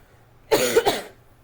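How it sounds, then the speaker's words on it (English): A single harsh cough, loud and close, with a quick double burst at its end, in an otherwise quiet room. "Pardon my cough."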